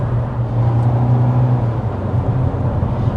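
A 2024 Nissan Altima SR engine accelerates from inside the cabin, a steady low hum with a faint whir building under road noise, no talk.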